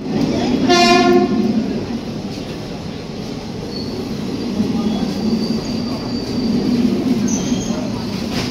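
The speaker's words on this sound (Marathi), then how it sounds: "म्हणजे ट्रेन सुटलेली आहे आपली" Indian passenger train pulling out from a station: a loud horn blast near the start, then a steady rumble of wheels and carriages rolling beneath faint voices nearby.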